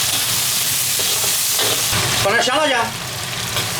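Ginger, dried chilies, Sichuan peppercorns, onion and celery stir-frying in a wok for spicy crab: a loud dense sizzle with scraping stir strokes, briefly under a spoken line before the hiss eases slightly.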